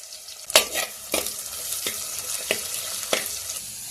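Onions fry in hot oil in a pan with mustard seeds and cumin, a steady close sizzle broken by several sharp scraping stirs and clatters of the spoon.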